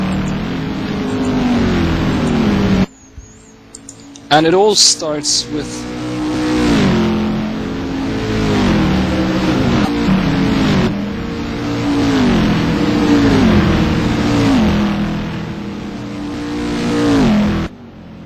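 Racing cars of the STC Black Cup accelerating around the Spa circuit, loud engines rising and falling in repeated revving sweeps as several cars run close together, with a brief drop in noise early on and commentary talk over them.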